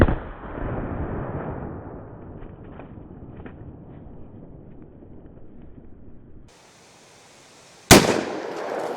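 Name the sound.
Colt Anaconda .44 Magnum revolver firing 225 grain rounds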